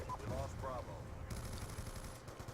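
Rapid automatic gunfire in Black Ops 2 during a Domination match on the Studio map, a steady stream of shots in the near field with brief voice-like sounds early on and game noise continuing throughout.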